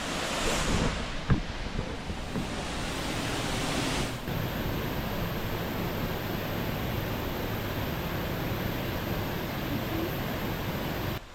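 Steady rain pours outside a cave in Australia as a dense, even roar that fills the whole stretch without letup. There is no distinct thunderclap, and no one speaks.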